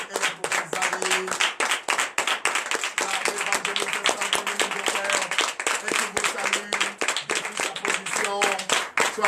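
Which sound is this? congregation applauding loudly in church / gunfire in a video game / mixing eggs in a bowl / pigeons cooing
congregation applauding loudly in church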